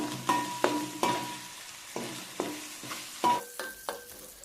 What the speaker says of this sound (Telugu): పై పేస్ట్ కొద్దిగా వేగిన తర్వాత ఎనిమిది పచ్చిమిరపకాయలని ఈ విధంగా మజ్జిగ ఘాటు పెట్టుకుని వేసుకుని ఇప్పుడు ఈ రెండింటిని బాగా వేగనివ్వాలి